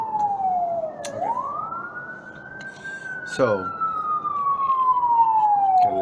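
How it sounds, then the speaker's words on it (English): Emergency vehicle sirens wail through a residential neighborhood, one rising and falling tone sweeping past while a second brief siren burst joins midway, moderately loud and getting nearer, with a voice briefly speaking at the start. "gotta let the sirens go by in the neighborhood, running code."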